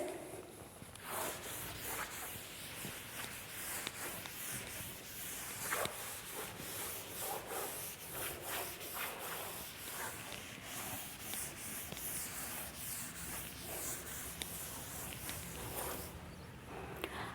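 A board is wiped clean of writing in a classroom, with a run of quick, rhythmic rubbing strokes that are faint and scratchy and continue without pause.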